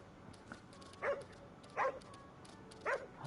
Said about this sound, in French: Oh, le petit chien. Mais c'est trop mignon, regarde.